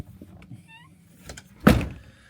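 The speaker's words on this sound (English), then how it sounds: "I'll shut the door." A van door swings shut with a single solid, close thud and a short rattling tail, following a quiet, low background hum.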